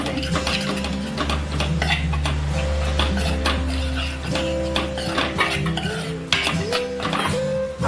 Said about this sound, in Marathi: हे सुद्धा आपल्याला आता व्यवस्थित असं मिक्स करून घ्यायचं आहे.